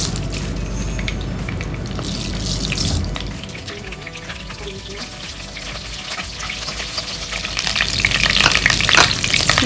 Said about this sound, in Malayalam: നമുക്ക് കുറച്ച് കടുകിട്ട് കൊടുക്കാം.